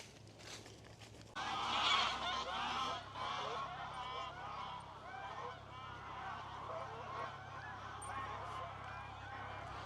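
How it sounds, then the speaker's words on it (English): A gaggle of geese honking in a country park, a dense, continuous chorus of overlapping honks at a moderate distance, rising briefly early on and then holding steady. "Well, that was a gaggle of geese"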